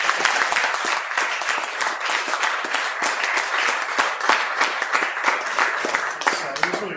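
An audience at a Bloomington science cafe applauds after a talk on antimatter, a dense, sustained burst of many hands clapping close by for several seconds.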